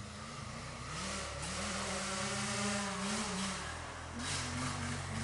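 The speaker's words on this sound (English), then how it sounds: "Two-stroke and a 4-stroke." A two-stroke and a four-stroke motocross bike run together on a backyard track, engines droning and revving in rising and falling pitch sweeps, moderately close and continuous, with no talk.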